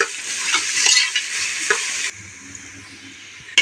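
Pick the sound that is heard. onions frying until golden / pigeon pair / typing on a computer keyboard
onions frying until golden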